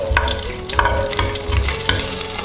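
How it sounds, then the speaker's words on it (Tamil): Onions fry in a pan with garlic, curry leaves and dried red chillies for Kongunadu-style bitter gourd gravy, while a spoon scrapes and stirs in a steady rhythm of about three strokes over a constant sizzle, close and fairly loud. "நல்லா கலக்கி விட்டுக்கோங்க"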